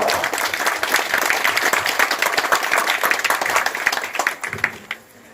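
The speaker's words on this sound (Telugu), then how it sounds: "క్లాస్ గట్టిగా గట్టిగా కలుపుకోవాలి జనంలో" An audience claps loudly at a Vinayaka committee felicitation event for a child's Bhagavad Gita recital in Lakshminarayanapuram, with dense, sustained applause that fades out near the end.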